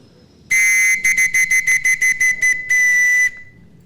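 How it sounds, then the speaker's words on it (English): A shrill whistle of the kind blown in Trinidad robber talk tradition sounds close and loud: one long blast, then a rapid string of about eight short bursts, then another long blast. "The particular way that you blow the whistle as well."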